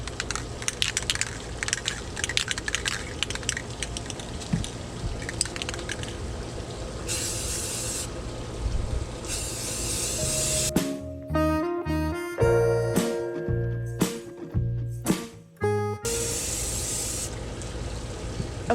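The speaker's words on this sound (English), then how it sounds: "let's get this out to the spray booth and give it a spray" Aerosol black gloss paint sprayed onto the bottom end of a repaired cracked epoxy tumbler in an outdoor spray booth, a series of loud hissing bursts of varying length separated by short pauses, with no talking.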